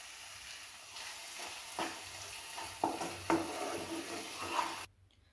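Dry coconut stirred and fried into an oily mutton rassa masala base in a pan, with faint sizzling and intermittent scraping stirs that cut off abruptly near the end.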